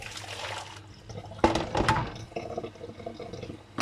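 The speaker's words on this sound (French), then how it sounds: "Ça s'égoutte en fait, l'eau sort du sachet." Water pours and trickles out of a draining boil-in-bag rice sachet in a home kitchen, a close, steady splashing stream with a louder gush midway before it settles into dribbling.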